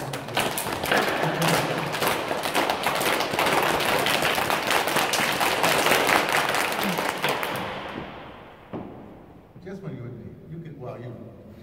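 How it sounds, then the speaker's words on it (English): An audience claps hands together in a loud, sustained, fast burst for about eight seconds before it trails off, and voices follow in the quieter stretch at the end. "So we're gonna clap right to give it out."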